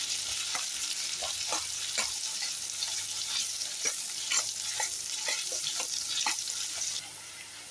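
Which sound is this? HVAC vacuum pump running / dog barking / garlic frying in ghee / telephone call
garlic frying in ghee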